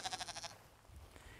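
Sheep on a wool farm with a flock of about 150 bleat in a quick run of pulsing calls, followed by quieter rustling and faint farm background, all fairly soft and distant.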